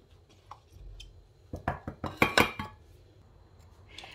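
A quick run of light clinks and clatters as parsley persillade is moved into a small serving pan, several taps in close succession, near and fairly quiet.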